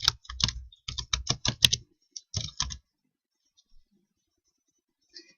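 Keys clack on a computer keyboard as words are typed into Excel 2013 cells, in quick clustered bursts for about three seconds and then near silence; close and clear.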